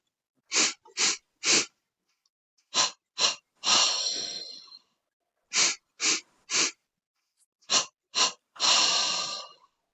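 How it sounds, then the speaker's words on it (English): Paced breathing in repeating sets: three short sharp sniffs in through the nose, then a longer breathy exhale, repeated three times close to the mic. "breathe in 3 times through the nose in 3 parts, and then 3 times out of the mouth in 3 parts"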